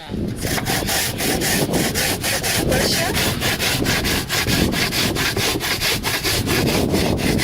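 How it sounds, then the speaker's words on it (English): Fresh coconut is grated on a very sharp-toothed hand grater during a food tour in Belize, giving fast, regular rasping strokes, loud and close, repeating in a steady rhythm. "we're gonna grate us some coconut so we can make the milk"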